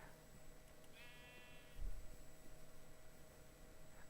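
Sheep bleating inside the Minecraft video game, a single short wavering bleat near the start, moderately clear over a steady low background hum with no talking.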